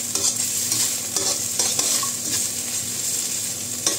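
Onions sauté in a pan with oil, a continuous close sizzle broken by several sharp scraping strokes of a utensil stirring and pushing them around, with no talking.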